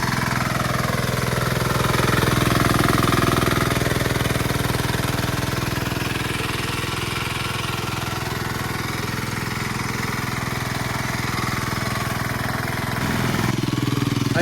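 Tractor working through a muddy paddy field during rice transplanting in Konkan, with a steady engine drone throughout and a slight swell and dip in loudness as it moves.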